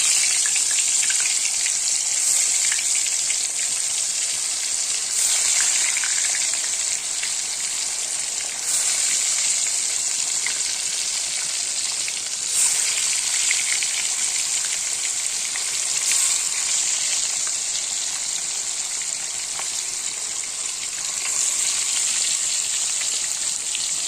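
Katla fish frying in a wok (karai) in hot oil, a steady loud sizzle with bright crackling throughout, occasional brief spikes of spattering, no voices.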